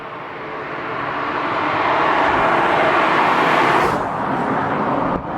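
A 2025 Audi RS3 compact performance car accelerating hard, its engine roar building steadily and loud, then easing off toward the end with a brief dip, heard from close by with no talk over it.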